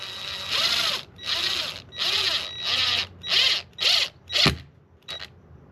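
A power drill drives screws into a Henry .357 Big Boy rifle butt stock, whirring in seven short bursts that get briefer toward the end, each rising and then stopping, with no talk.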